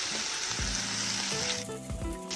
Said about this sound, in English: And I'm going to stir fry it for 5 minutes.